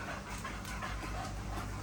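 A dog pants steadily and fairly close during a visit to a koi water barn, the quick breathy rhythm running through the whole short stretch with no talk over it.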